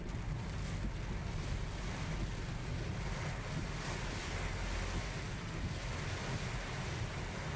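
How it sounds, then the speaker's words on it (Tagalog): Strong wind with heavy rain roars without pause, a thick continuous rush of gusts buffeting the microphone, loud and close, with no one speaking. "Grabe lakas ng hangin."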